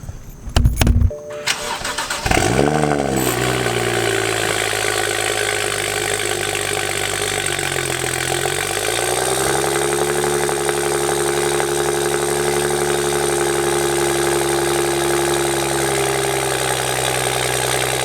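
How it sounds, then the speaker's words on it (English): BMW 335i with N55 engine cold starting: a sharp crank and catch, then a loud elevated idle that settles, rises again slightly and holds steady for a long stretch, close and alone. "let's get you guys this cold start"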